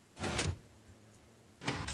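Two separate mechanical door sounds in a Minecraft game, each a short hissing, whooshing slide lasting about a third of a second, moderately loud with quiet between them.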